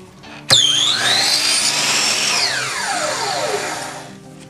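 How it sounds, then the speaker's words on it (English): A drill spins up sharply, drilling holes for dowels, and runs at a high whine for a couple of seconds, then winds down gradually as the motor slows. "drilling some holes"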